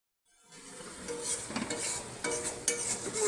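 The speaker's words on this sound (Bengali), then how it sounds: "মশলাটা ভালো করে কষিয়ে নেব।" A spice paste made with Kashmiri chili powder and a little water sizzles in a pan. The sound rises from silence into steady frying, with a few sharp scrapes and clinks from a stirring spoon.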